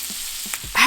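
A steak sizzles in a hot cast iron pan, a brief crackling hiss with a few soft pops and a louder burst near the end, close up and alone.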